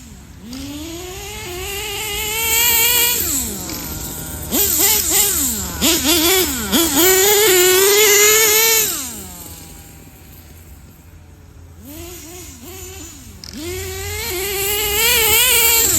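A nitro HPI Savage 25 RC tank engine revs hard out on a field, its high buzzing whine climbing and falling in repeated loud bursts, then dropping to a lower idle before surging again, heard close with no talking.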